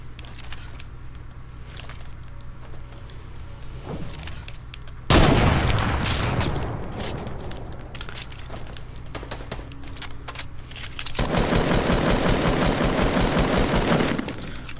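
Bursts of rapid video game gunfire, a loud sustained automatic burst followed by quieter shots and then another dense, loud volley near the end.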